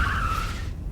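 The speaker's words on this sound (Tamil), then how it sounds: "கார் சவுண்ட் கேக்குது" A car arrives with its tires skidding and screeching, a sustained squeal that fades out within about a second, set in a Tamil TV serial scene.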